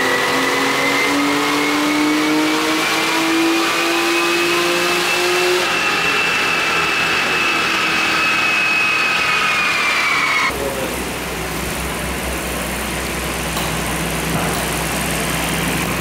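Stock Nissan GT-R engine revving during a dyno run, a loud sustained roar with a steadily climbing pitch that drops off abruptly, leaving a lower rumble of the engine and dyno.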